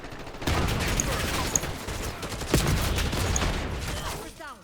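Sustained gunfire from the video game Call of Duty Black Ops 6, a dense fusillade of shots with a couple of sharper cracks standing out, fairly loud and continuous across the clip.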